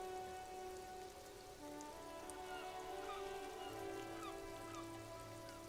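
Rain falls over city houses in the video game Disco Elysium, a steady faint hiss of rainfall with soft tonal ambient music layered underneath, no talk.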